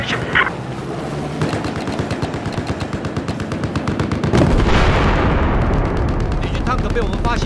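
An enemy machine gun rattles in a video game battle, fast steady bursts of loud gunfire that swell into a heavier blast and rumbling barrage, with voices heard under the shooting.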